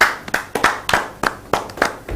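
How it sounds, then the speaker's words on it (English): A handful of people clap in a classroom during a high school financial literacy program, sparse and uneven claps, about eight distinct hits in a loose rhythm, close and fairly loud. "Can we all clap for him?"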